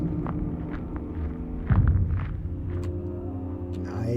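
Footstep sound effects in a horror video game, a series of soft, evenly spaced steps over a low droning rumble, with a heavier thud partway through.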